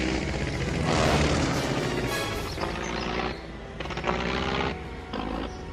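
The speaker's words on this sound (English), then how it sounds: "It's an aeroplane, and I think it's in trouble." A loud, roaring aircraft engine swells and rumbles close overhead, surging and fading in waves.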